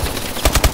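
A quick burst of automatic gunfire in Call of Duty: Advanced Warfare during a Hardpoint match, several loud rapid shots in under a second.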